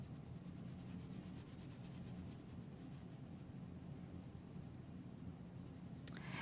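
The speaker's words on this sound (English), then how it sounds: "This will make it work a little quicker if you use the side of your pencil." Colored pencil shading on sketchbook paper with the side of the lead gives a soft, steady scratching rub, faint and continuous, with no talk.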